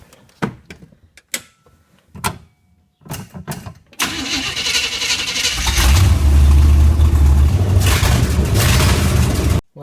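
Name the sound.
Suzuki Sidekick with swapped 350 Chevy engine starting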